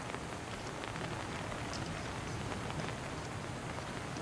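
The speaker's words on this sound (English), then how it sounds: "Really raining out here." Video game rain from Ready or Not falls in a dense, even patter across the whole stretch, with no voices, just a constant wash of drops hitting surfaces.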